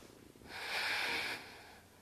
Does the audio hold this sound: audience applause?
no